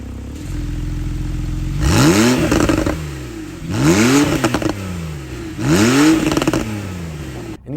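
A Porsche 911 GTS of the 991.2 generation with its flat-six engine revving hard three times, each blip climbing sharply then falling away with crackles and clatter, loud and close with no talk.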